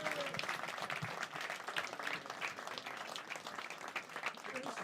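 Steady crowd applause at a comedy club as a comedian takes the stage, dense clapping that stays fairly even throughout, with faint voices mixed in.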